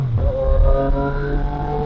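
A car passes on an open road, heard from a CFMOTO 675SR motorcycle: a loud, close engine drone with rising and falling tone over a couple of seconds.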